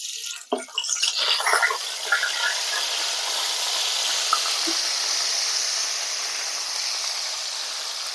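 Onion paste dropped into hot oil with fried tempering spices, giving a sudden loud hiss and crackle that settles into a steady, even sizzle close by.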